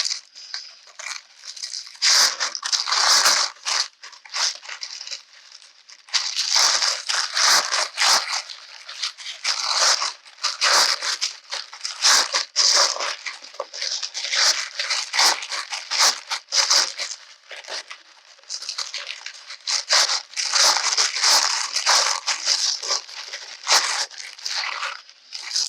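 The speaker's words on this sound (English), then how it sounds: "Tissue paper is really easy to rip." Tissue paper being ripped and crinkled by hand while making paper flowers and pom poms, repeated bursts of close, crisp tearing and rustling in uneven bursts separated by short pauses, with no talking.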